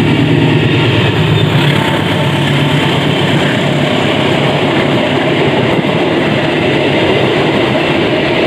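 The Malabar train from Malang to Bandung rushes past at Manonjaya station in Tasikmalaya, West Java, heard up close from the waiting Serayu Malam train as a loud, unbroken roar of wheels and carriages with a rhythmic clatter.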